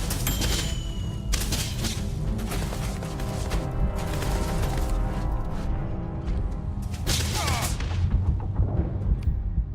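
Dense, continuous gunfire and booming impacts from a Starfield firefight, loud and sustained with layered shots and explosions, with faint voices now and then.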